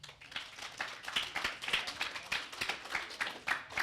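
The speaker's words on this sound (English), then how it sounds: "Round of applause." An audience at an author talk breaks into applause, with a dense patter of many hands clapping, heard faint and somewhat distant for a few seconds.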